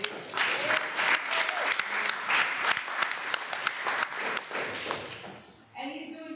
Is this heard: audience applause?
yes